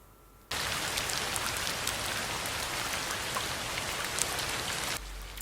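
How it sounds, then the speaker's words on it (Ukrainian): Steady rain pours down, a dense hiss of drops pattering on a surface, starting abruptly and continuing evenly throughout. "Так, це дощик."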